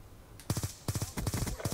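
Three-round bursts from a burst-fire rifle in the video game Black Ops 2, four sharp bursts spaced about a beat apart, each a quick triple crack, close and loud with no talk.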